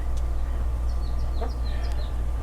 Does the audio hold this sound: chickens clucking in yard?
yes